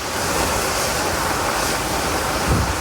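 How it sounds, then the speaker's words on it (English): A broken fire hydrant, struck by a stolen car outside a Melbourne hotel, throws a jet of water into the air. It makes a steady, loud, broadband gushing roar with no break and no voices. "A stolen Audi hit a fire hydrant, sending a jet of water into the air and nearby businesses."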